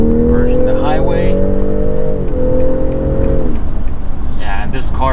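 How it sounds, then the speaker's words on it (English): A 2023 BMW X3 M40i with the B58 engine accelerating hard to merge onto a highway, its engine note climbing steadily through one gear, dipping at a shift, then rising again, loud from inside the cabin. "this car definitely has good punching power to merge the highway"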